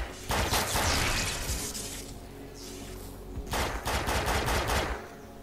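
Two bursts of rapid automatic gunfire from the shooter game Defiance, each lasting about two seconds with a quieter pause between, loud and close with no speech.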